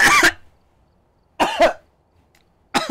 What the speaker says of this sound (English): Oh, I just coughed.